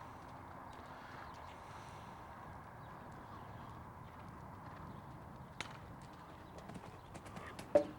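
Horse hooves striking ground during show jumping gridwork, a soft, steady clip-clop under a continuous outdoor hum, with a sharper louder thud near the end.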